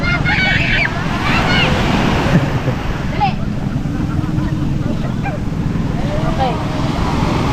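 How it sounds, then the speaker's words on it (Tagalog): Loud, steady rush of surf and crashing waves fills the whole stretch, with wind buffeting the microphone and voices faintly underneath. "malakas na alon nga na to"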